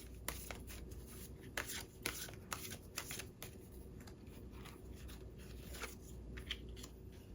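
Tarot cards being shuffled and drawn, a steady papery riffling and flicking that runs throughout with several sharper snaps, close and fairly quiet, with no voices.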